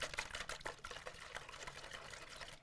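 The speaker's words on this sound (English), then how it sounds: "what I have in the bowl already is 8 whole eggs that I'm going to go ahead and whisk up" Eight whole eggs are beaten in a bowl with a whisk, giving a fast, steady run of light clicking and ticking strokes throughout.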